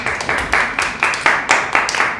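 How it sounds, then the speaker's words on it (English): A small audience claps steadily in a rhythmic, fairly close patter of individual hand claps for about two seconds, loud and without talk. "Should we applaud to this answer?"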